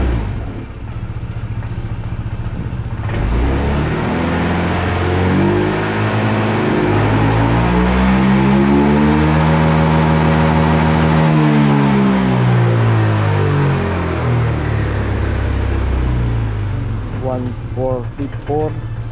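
A motorcycle engine revs steadily up and down after its clutch bell was cleaned, running on a 17-13 sprocket combination with a slightly aggressive character, loud and close throughout with some mechanical clatter.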